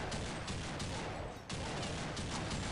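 Continuous rifle fire in Counter-Strike Online zombie infection mode, a dense, loud stream of rapid shots with a short break midway before firing resumes.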